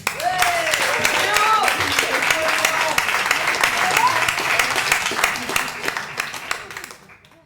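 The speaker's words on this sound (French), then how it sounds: "je vous demande d'applaudir très fort Monsieur Léo Diabolo" Audience applause and clapping at a stage show in Lille, a dense, sustained wash of many hands, loud and steady, with a voice speaking over it, fading toward the end.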